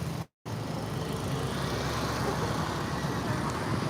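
Busy street traffic in Cambodia, with motorbikes and cars in a crammed jam among pedestrians and market activity, produces a continuous moderate roar of engines and road noise after a brief dropout near the start.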